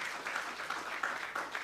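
Applause rises in a climate science symposium opening session as a speaker is welcomed, a soft, steady wash of many hands clapping at a distance with faint individual claps poking through.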